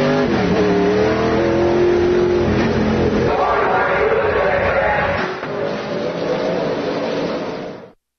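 Race cars rev and roar at Ocean Speedway, a Friday-night racing event, with loud, sustained engine noise filling the whole stretch, a brief dip near the middle, then cutting off at the end.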